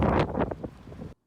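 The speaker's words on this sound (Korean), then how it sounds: "여기 바람 소리 들리시나요?" Strong gusty wind buffeting the microphone on a chilly day in Trieste, a port city by the sea, loud rumbling roar through most of the clip that cuts off abruptly at the end, no talking.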